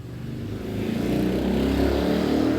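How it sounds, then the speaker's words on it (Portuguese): A motorcycle goes by close outside, its engine a steady low drone that swells slightly as it passes, heard on its own without talk. "Perdão pela moto que está passando aqui do lado."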